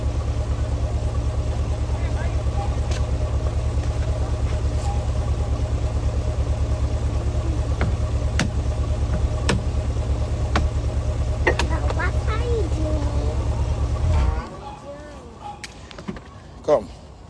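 A big car idles with a steady low rumble for most of the stretch, then the engine cuts off near the end, leaving faint background sounds and a few clicks, with no talking over it.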